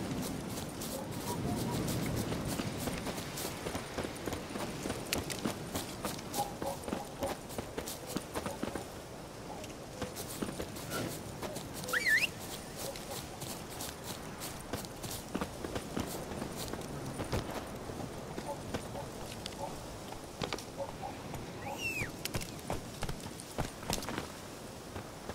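Hooves of Roach, Geralt's horse, running through woods in The Witcher 3 video game, a faint steady patter under soft ambient game sound.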